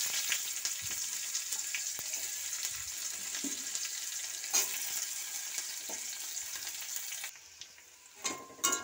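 Chopped onion dropped into a hot kadai of oil with bay leaf and cumin tempering, a steady light sizzle and crackle throughout with a few soft stirring clinks, quiet and close.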